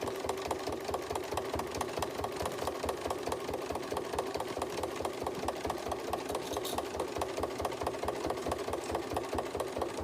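A sewing machine stitches around a trapunto cushion, a fast, even mechanical chatter running steadily and close throughout, with no talking.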